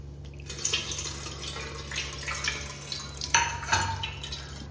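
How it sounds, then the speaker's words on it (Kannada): Tamarind water is squeezed by hand and poured into a vessel while munchi saaru is being made. Close, irregular splashes and trickles rise over a low steady hum, with a couple of louder pours near the end. "ಇನ್ನೊಮ್ಮೆ ನೀರು ಹಾಕೊಂಡು ಚೆನ್ನಾಗಿ ಕಿವುಚಿ ಎಲ್ಲ ಇದನ್ನು ಹಾಕ್ತಾ ಇದ್ದೇನೆ."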